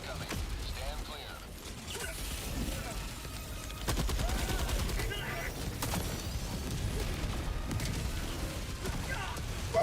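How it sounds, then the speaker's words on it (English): Orbital barrage strike in a video game, a continuous roar of rapid explosions and blasts with crackling gunfire, sustained and intensifying partway through, with voices mixed underneath. "Orbital barrage incoming."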